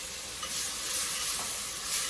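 Vegetables with garlic and tomato paste are stirred in a pot for a seafood bisque. A continuous close sizzle and scraping stir carry on without talk.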